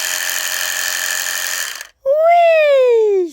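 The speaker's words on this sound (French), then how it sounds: "première fois qu'il va entendre le bruit d'une tondeuse" Electric clippers used to groom a dog hum steadily with a loud buzzing drone for nearly two seconds, then cut off, followed by a voiced sliding sound.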